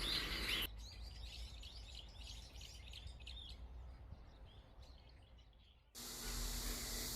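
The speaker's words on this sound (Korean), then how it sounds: "혼자 먹지 않고 친구 박새를 불렀네요" Great tit calling outdoors at a peanut feeder, a run of faint high chirps and short notes over a steady hiss, ending before a louder rushing noise takes over.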